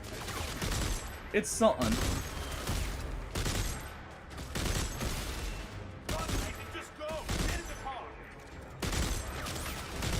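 Machine gun fire in the sci-fi horror game Dead Space 3 rattles in repeated bursts among game effects, while someone talks over it.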